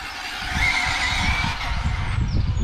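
An Arrma Infraction 8S RC car races around a track with a continuous high-pitched electric motor whine and tyre noise. The sound stays close and loud and rises and shifts as the car speeds past.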